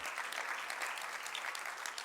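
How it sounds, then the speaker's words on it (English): An audience at a graduation ceremony for a cell phone repair course claps steadily as a speaker goes up to the stage, a brief, even round of applause heard at a modest distance. "Please give him a round of applause as he ascends the stage."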